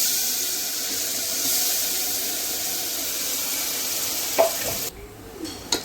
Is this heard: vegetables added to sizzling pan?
yes